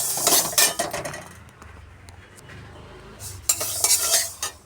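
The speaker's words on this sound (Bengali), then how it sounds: "মুগ ডাল ভাজতে দিয়েছি শুকনো খোলায়" Moong dal dry-roasting in a dry pan, stirred with a metal utensil; scraping and clinking strokes come in two bursts with a quieter gap between, close and moderately loud, no talk.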